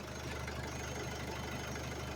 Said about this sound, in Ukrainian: запуск фордика, дизель после капиталочки